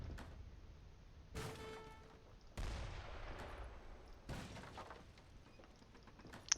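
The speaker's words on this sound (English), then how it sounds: "But here come the mortars." Mortar and gunfire volleys from a battle in Age of Empires III against a Swedish army, arriving as several loud booming bursts with long reverberant tails and scattered crackling shots between them.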